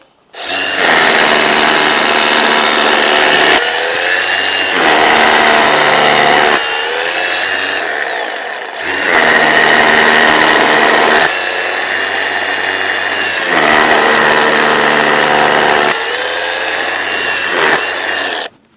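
A power drill bores holes for concrete screws in a garden studio base, running in several long bursts, loud and grinding, with short pauses between each drilling pass.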